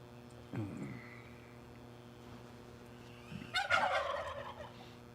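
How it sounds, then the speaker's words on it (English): Turkeys gobble in two bursts: a short low call near the start, then a louder, longer rattling gobble later, heard over a steady electrical hum with no talk. "There are turkeys behind me"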